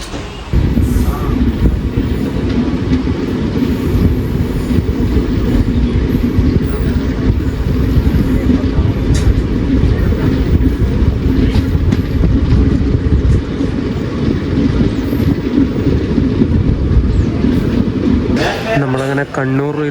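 An express train on the Payyanur to Tiruchchirappalli route, just departed from Kannapuram, makes a loud, unbroken rumble with rattling carriage noise heard from inside, with muffled voices at times and a brief rise in noise near the end.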